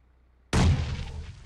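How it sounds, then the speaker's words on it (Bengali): A grenade thrown by player Raihan in a UPL semi-final video game match bursts suddenly after a quiet moment, one loud close blast that rumbles and fades. "FSM এর উপর, কিন্তু গ্রেনেড করছে রায়হান।"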